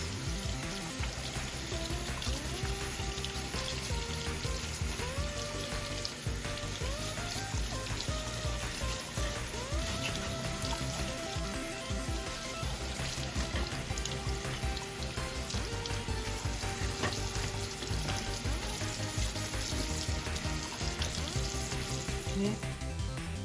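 Steady running water from a tap pours over an electric heater filter being washed, a constant hiss and splash throughout with no talking.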